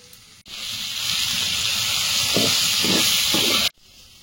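Water poured into a hot pan of vegetables and spices, giving a loud, sustained steam hiss that starts abruptly, holds for about three seconds with a few bursts of bubbling, then cuts off.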